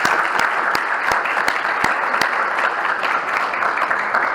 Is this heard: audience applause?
yes